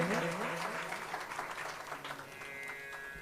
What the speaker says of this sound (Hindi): सब लोग तालियों के साथ स्वागत करेंगे।